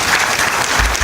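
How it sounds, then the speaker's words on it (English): An audience claps for the Ministry of Education at a Game Connect Summit session, a brief, loud, dense burst of many hands applauding with no speech over it. "Hand clap for Ministry of Education."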